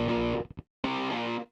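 Music processed through a Tim P Nebula X filter plugin with the low end cut, a dense distorted sustained phrase that stops briefly, stutters, then resumes loud and alone.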